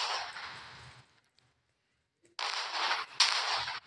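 Gunfire in the Indian Bike Driving 3D mobile game, fired at dinosaurs: two sustained bursts of loud, harsh shots, one in the first second and a half and another running through the final stretch, with a quiet gap between them.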